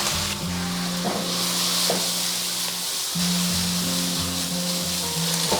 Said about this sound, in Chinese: 翻面以后，我们下入葱姜，然后多一点的料酒去腥增香